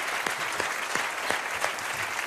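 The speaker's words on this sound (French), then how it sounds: "On peut les applaudir." Studio audience applauding at a French talk show, a short burst of steady dense clapping with a few sharper individual claps standing out.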